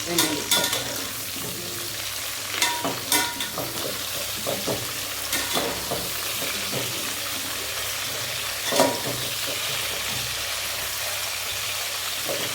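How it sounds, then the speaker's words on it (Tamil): Brinjal sautéing in a pan for brinjal gravy gives a steady frying hiss, with intermittent scraping stir strokes at irregular intervals, close and moderately loud, no talking. "இந்த கத்திரிக்காய் போட்டு நல்லா வதக்கிட்டோம்."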